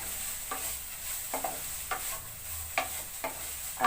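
Dhekia fern greens frying in bubbling oil in a pan, a continuous sizzle punctuated by regular scraping stirs of a spatula, close and steady with no voices.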